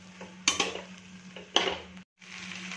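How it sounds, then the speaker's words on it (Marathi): Maggi noodles being stirred in a pan for Chinese-style chowmein Maggi, with a few scraping, clinking strokes of a utensil against the metal over a low steady hum, fairly close and moderately loud, with no talking. "आता आपण याच्यामध्ये मॅगी घालून घेणार आहोत. सगळं व्यवस्थित मिक्स करायचं."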